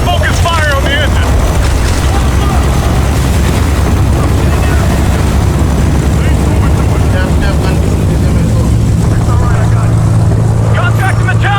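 Aircraft engine roars steadily as a plane begins rolling in Ghost Recon Future Soldier, a loud continuous drone throughout, with a rising tone near the end and voices and combat sounds layered over it.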